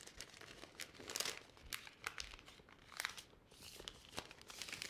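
A paper bag basket being folded by hand gives soft, close crinkling and crumpling of paper in irregular bursts, with a few sharper crackles and no talk.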